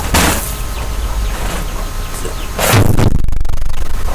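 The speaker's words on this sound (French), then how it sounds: "Ah, oh, super explosion." A loud game explosion bursts with a deep boom, followed by rumbling debris and a heavy, sustained roar near the end.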